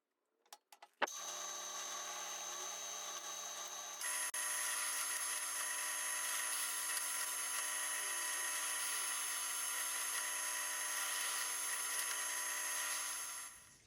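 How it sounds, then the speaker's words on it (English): A drill spins up and bores a tuner hole in a guitar headstock with a 10mm brad point bit, a sustained, steady high-pitched whine that runs for about ten seconds, close, before stopping. "I'm going to drill these with a 10mm brad point drill bit"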